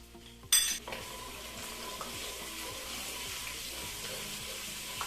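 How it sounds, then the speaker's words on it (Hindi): Oil sizzles steadily as garlic paste lightly fries in a pan, with occasional stirring scrapes and a brief louder burst near the start. "लहसुन का पेस्ट बस लाइट सा फ्राई करना है, इसको ज्यादा फ्राई नहीं करना है"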